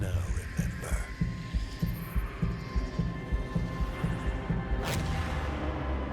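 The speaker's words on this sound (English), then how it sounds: "Talking about fear with the heartbeat in the background getting faster and faster." A heartbeat sound effect in a Warframe trailer throbs steadily in low, muffled double pulses beneath a dark humming score, with a whooshing swell near the end.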